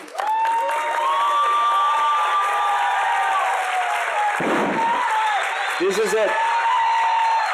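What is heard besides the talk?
audience cheering and applauding for the faculty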